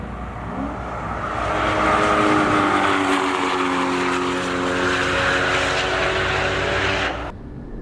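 A Porsche GT car with a Carrera S engine accelerates hard. The loud engine note climbs and sustains for several seconds, then cuts off abruptly, with no talk.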